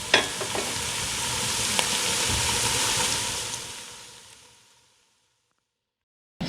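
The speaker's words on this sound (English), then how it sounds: "you want to let this cook a while, maybe about 5 to 7 minutes until the vegetables become soft" Vegetables sizzle and hiss steadily in a soup pot, a loud constant frying crackle with faint stirring that fades away to silence.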